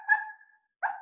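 A person imitates a little yappy dog, giving two short, high, nasal yips separated by a brief pause, close and fairly quiet, with no other sound around them.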